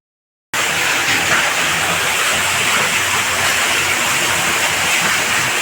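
After a brief moment of silence, water suddenly gushes out of a borewell loudly and keeps rushing in a constant, powerful roar close by.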